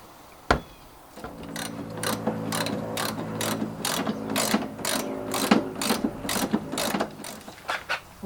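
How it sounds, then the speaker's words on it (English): A power drill bores holes through a boat transom to mount a Power-Pole bracket, making a close, loud whirring with rapid clicking pulses, preceded by a single sharp knock. "so now we drilled the two bottom holes"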